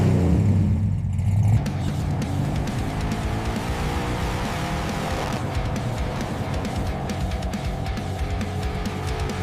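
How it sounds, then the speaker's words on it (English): A restored Boss 429 Mustang engine roars nearby. A loud opening burst settles into a sustained, rough rumble that revs and surges throughout. "Listen to that roar. It runs!"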